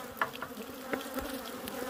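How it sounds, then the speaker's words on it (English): Bees buzz around a honey-filled beehive on a hot day, a steady insect drone with several louder passes close by. "Mean ass bees, bunch of honey."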